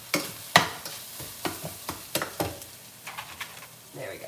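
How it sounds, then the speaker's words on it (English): Spinach and sun-dried tomatoes sauté in a pan. A soft sizzle sits under a series of quick scraping stirring strokes, irregular and fairly close, with no clear speech. "I'm gonna pause to mix up my veggies because I can tell they're getting upset"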